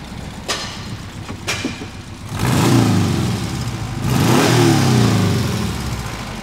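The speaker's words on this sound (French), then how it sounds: "On va mettre quelques coups de gaz. Tu vas entendre le moteur flat, Pistache." A flat engine idles with a couple of clicks, then is revved hard twice, each rising roar swelling loudly before settling back.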